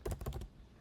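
Quick burst of typing on a computer keyboard: a handful of rapid close key clicks in under half a second, then quiet, fairly soft with no talking.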